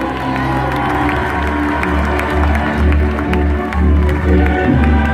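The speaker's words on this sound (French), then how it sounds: "on peut l'applaudir" A crowd of about 300 at a youth football juggling event cheers and applauds the winner, a steady loud wash of clapping with whoops and shouts, under a low rumble of voices.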